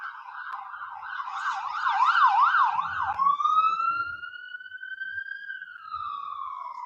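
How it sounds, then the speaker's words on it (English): An ambulance siren wails loudly in a fast rising-and-falling pattern, then switches to a slower, sweeping tone as it carries on nearby. "That was the ambulance."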